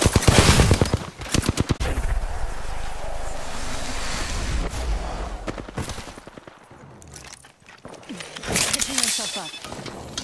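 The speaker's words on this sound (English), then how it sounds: "I am taking fire, friends." Rapid automatic gunfire in the battle royale shooter Apex Legends, loud sharp bursts up front and again later, with gaps of ambient game noise and a voice talking over parts of it.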